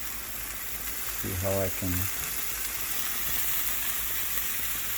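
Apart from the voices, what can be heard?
onions frying with mutton and pork burger patty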